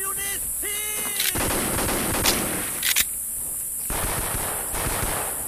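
AK-47 rifle fire in the Vietcong video game comes as loud, rapid automatic bursts with sharp single cracks in between, close and dominating the mix.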